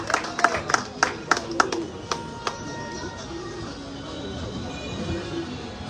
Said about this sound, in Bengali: ফারুক ভাইয়ের জন্য বিশেষভাবে করতালি